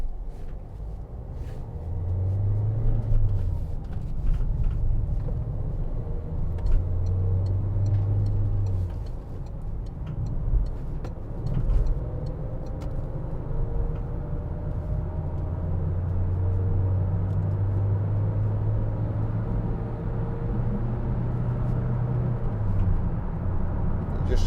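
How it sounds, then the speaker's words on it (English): Wind roar from roof bars on a 2014 Peugeot Partner 1.6 HDi van cruising at 60–70 mph on a motorway, a steady broadband rush blended with engine and tyre drone, continuous and moderately loud throughout with no talking. "Just start to hear the wind noise from the roof bars there when you get to 60."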